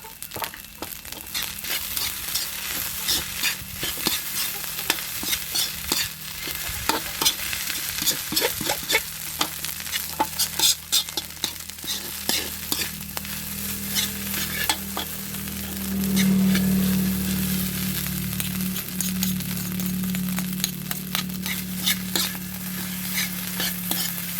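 Rice and egg stir-fried in a pan, crackling steadily with repeated scraping strokes of a spatula, the sizzle swelling louder partway through and continuing without any talk.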